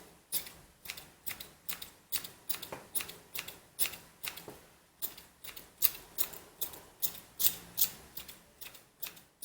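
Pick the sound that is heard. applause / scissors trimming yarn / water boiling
scissors trimming yarn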